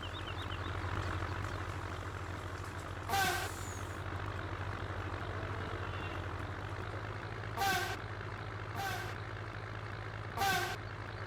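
A six-wheel dump truck's air brakes hiss sharply four times over a steady idling engine rumble, fairly close.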